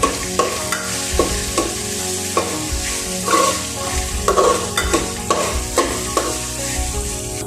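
Brinjal and sundakkai (turkey berries) stirred in a frying pan for a vaththal kulambu, a steady sizzle broken by repeated scraping spoon strokes in an uneven rhythm, close and fairly loud, with no talk.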